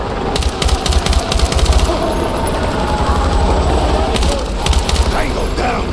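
Sustained automatic gunfire in a Battlefield 6 combat mission, dense rapid bursts of rattling shots layered over a constant rumbling battle din, loud and close throughout, with faint shouted voices mixed in.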